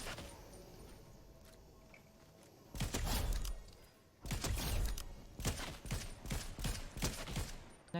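A player fires at flying bots in an aim-trainer game, shooting in short bursts of sharp gunshots that start after a quiet opening and come in quick clusters toward the end, heard up close.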